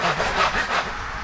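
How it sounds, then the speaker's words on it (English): A crosscut handsaw rasps through wood in a few quick close strokes, each rough push-and-pull clearly audible. "grabbing a crosscut saw, and having at it"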